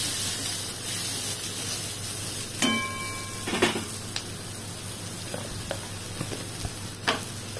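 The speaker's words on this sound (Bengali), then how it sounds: "এটাকে একটু ভেজে নিচ্ছি, ধনে জিরে গন্ধটা যাতে চলে যায়" Coriander and cumin spices frying in a pan with chillies for a chicken and potato curry, a steady close sizzle broken by sharp scraping clinks of a spatula and a few brief knocks.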